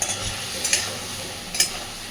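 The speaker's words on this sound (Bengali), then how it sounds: "এইবার সুন্দর করে আলুর সাথে মশলার সাথে মাছটাকেও কষে নেব" Eel fish with potatoes and spices frying in a pan for an Indian curry, a steady close sizzle with two brief scraping stirs of a spoon through it.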